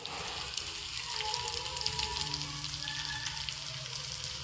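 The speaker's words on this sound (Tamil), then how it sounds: "கடுகு நல்லா வெடித்து வந்ததுக்கப்புறமா நம்ம தட்டி வச்சிருந்த பூண்டை சேர்த்துறோம் சேர்த்துட்டு அதோட ஒரு மூணு காஞ்ச மிளகாவை இப்படி கிள்ளி போட்டுடுறோம்" Crushed garlic and three dried red chillies sizzle in hot oil with popping mustard seeds, a steady close crackle and spatter with small pops throughout.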